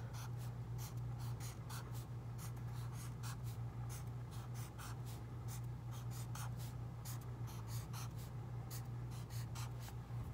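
A pen scratches rectangles onto paper, a close, soft run of short scratchy strokes in a steady repeated rhythm over a low continuous hum, with no talking.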